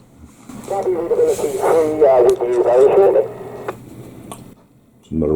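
Marine radio chatter, a compressed, crackly voice transmission with background hiss, brief clicks, then silence before another burst begins.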